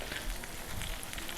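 Battered crispy shrimp fry in hot oil, a steady, close, continuous sizzle and crackle with no talking.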